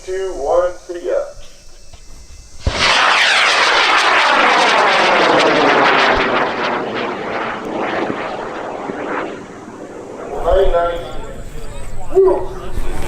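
A high power rocket on a CTI M840 Moonburner motor lifts off with a sudden loud roar that rumbles on for several seconds and then fades as it climbs. Voices chatter excitedly before and after the launch.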